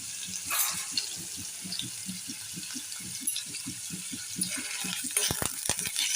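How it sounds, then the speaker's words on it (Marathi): Paneer fries in a pan with a steady, close sizzle, under a rhythmic low pulsing that may come from stirring and a few sharp clinks near the end. "आता आपण हे पनीर तळून घेऊया."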